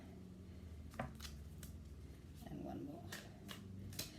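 Oracle cards shuffled and pulled from a deck give soft papery riffles and slaps, with sharper snaps near the start, middle and end, over a quiet room murmur.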